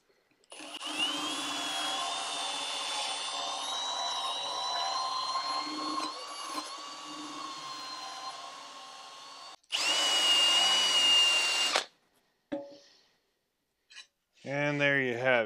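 A power drill spinning a stainless wire wheel on a stainless steel weld whirs at high speed with a grinding, scratchy edge for several seconds, stops, runs again briefly, then a voice speaks.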